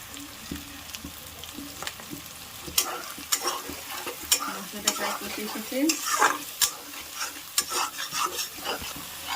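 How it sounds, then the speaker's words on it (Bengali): Dried-chili spice paste with salt fries in a pan for an unripe jackfruit curry, with a steady low sizzle broken by repeated scraping spatula strokes and light clinks, close by and with no talking. "মশলাটা একটু বেশি ভেজে নিতে লাগবে"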